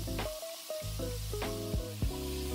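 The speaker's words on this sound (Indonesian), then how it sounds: "Terus kita tumis-tumis, kita masak sampai ayamnya berubah warna." Chicken and chilies sauté in a pan for curry fried rice, giving a steady sizzle with scraping stir strokes, close and fairly loud, while tonal background music plays over it.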